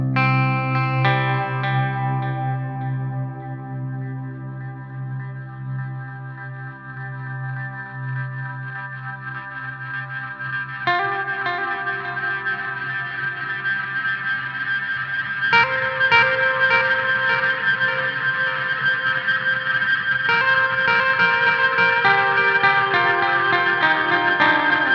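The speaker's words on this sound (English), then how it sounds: "I do this delay sort of oscillation effect where I go." Delay oscillation effect on electric guitar: a sustained chord decays, then swelling, self-repeating delay tones build into a rising, warbling electronic drone that grows louder over the clip, with no voices.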